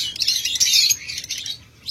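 A pair of local-breed lovebirds kept at a breeding farm chirps in a quick burst of sharp, high, twittering calls, close and fairly loud, then trails off into softer scattered notes before a last brief chirp, with no talking.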